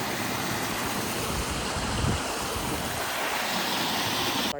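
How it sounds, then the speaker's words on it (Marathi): Steady rushing water fills the clip, a continuous broadband wash like a small stream flowing close by, with no voices. "इथं तुम्हाला मी ओहळ दाखवतो ओहळ किती खूप छान आहे"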